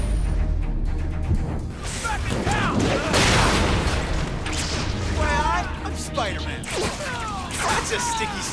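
Gunfire in the video game The Amazing Spider-Man, a burst of rapid shots and impacts mixed with crashing effects, while game characters shout over the action.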